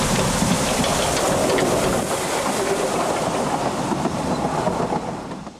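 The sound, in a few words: heritage narrow gauge steam locomotive Prince running a shuttle train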